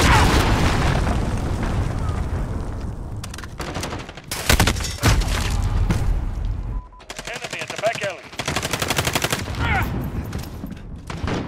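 A cruise missile explodes in Call of Duty Warzone, a loud, heavy boom within dense, continuous gunfire and rumbling battle noise that runs throughout.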